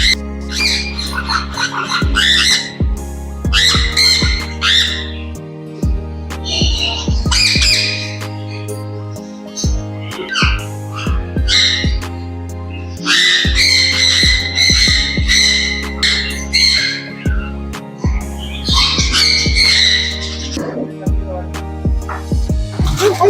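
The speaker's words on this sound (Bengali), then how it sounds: "তো আরও অন্যান্য যেসব পাখিগুলো আছে সেগুলোকে আমি তোমাদেরকে দেখাই" Many birds squawk loudly in a park on Netaji Subhas Island, harsh calls overlapping in bursts over a steady low hum, with little pause across the whole stretch.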